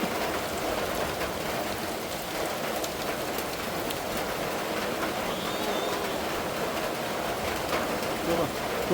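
Steady rain pours down across a Kokan village in May, the first of the season, a dense continuous hiss with scattered drops and splashes throughout; voices murmur faintly beneath it.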